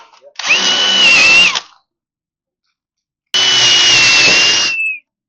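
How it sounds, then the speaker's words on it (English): A power drill used while putting down wood on a trailer, whirring loudly in two bursts of about a second and a half each, separated by silence, the second run slowing slightly as it winds down. "I wonder if I can do the whole drill process with this."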